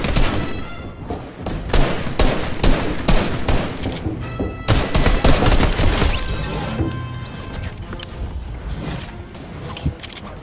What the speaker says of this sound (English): I have 6 henchmen shooting at me in the drum gun.